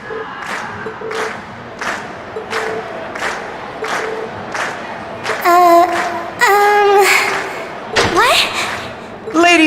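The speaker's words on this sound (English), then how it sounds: "And we've heard your cheers loud and clear." Crowd noise at a concert in the Trails of Cold Steel video game, with rhythmic clapping or chanting pulses followed by loud bursts of cheering and whistles, blended with game effects.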